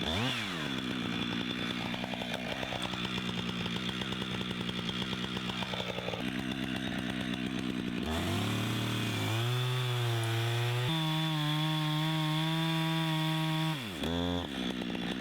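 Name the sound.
chainsaw making a felling cut in a tree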